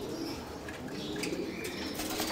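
Young racing pigeons gather at a loft's landing board, soft cooing and light wing flutters coming close and fairly quiet over a short moment.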